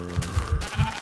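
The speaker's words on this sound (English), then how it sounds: "I saw a sheep." A wavering bleat from a sheep in Minecraft, close and clear, trembling in several rapid pulses over about a second, alone without speech.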